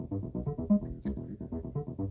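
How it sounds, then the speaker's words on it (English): A Behringer TD-3, a 303-style bass synth, plays a busy acid house bass pattern of short, quick repeating notes at a steady rhythm, moderately loud and with no voices. "where you will really know the sound of the 303 from especially is acid house"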